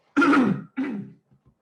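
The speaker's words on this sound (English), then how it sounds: "I'm going to cough" Two close, harsh throat-clearing coughs in quick succession, the first longer and stronger, followed by faint small sounds.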